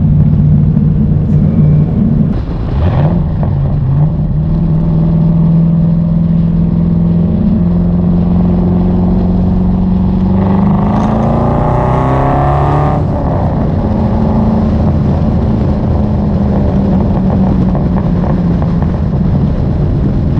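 A C5 Corvette track car's loud engine roars steadily at high revs, with a rising surge midway before settling back to a rough, rowdy idle-like drone; check engine light flashing.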